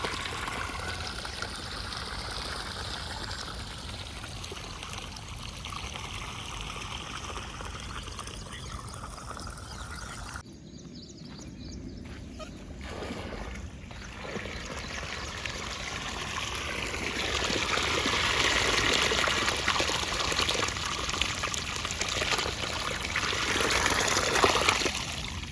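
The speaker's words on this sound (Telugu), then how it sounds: "అక్కడ నీళ్ళు పెట్టారు, నీళ్ళు పోతున్నాయి. ఆ సౌండ్ వినండి ఎలా ఉందో." Irrigation water runs steadily through channels in a farm field near palm trees, a continuous rushing trickle that swells louder toward the end, with no talk.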